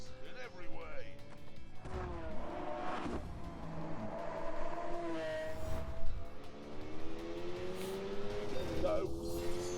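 Lamborghini engine roaring in The Grand Tour racing video game, revving up and down with gear changes and shifting pitch, while a player talks over it throughout.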